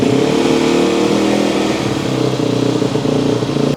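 A Yamaha WR450F motorcycle engine idles steadily while warming up, a loud continuous close-up rumble with mechanical clatter and no talk.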